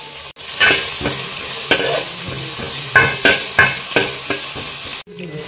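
Onion sizzles in hot oil in a pan for a Konkani dry shrimp and brinjal dish, a loud steady frying hiss broken by repeated stirring scrapes and clatters.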